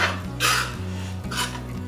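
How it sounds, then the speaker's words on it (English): A utensil scrapes and rubs through ground beef and melting cheese in a pan, two close rasping strokes over a steady low hum. "we're just going to start mixing this cheese into the meat so that it melts"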